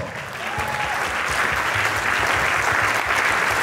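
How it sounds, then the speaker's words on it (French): Church congregation applauding together, a dense, steady clapping that holds strongly throughout, with a faint voice briefly audible underneath. "Est-ce qu'on peut se lever et acclamer le Seigneur pour toutes ces personnes?"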